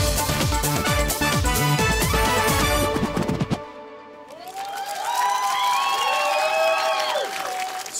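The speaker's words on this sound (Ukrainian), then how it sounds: "оплески учасникам другого туру" Crowd applause and cheering at an outdoor karaoke show on a public square, a dense, loud burst of clapping that fades out partway, followed by mixed crowd noise and tonal sounds.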